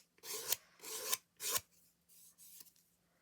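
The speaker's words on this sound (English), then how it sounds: "just going to sand that down" Sandpaper rubbing the edges of a wooden decorative stand in three firm, close strokes, then a few fainter light passes.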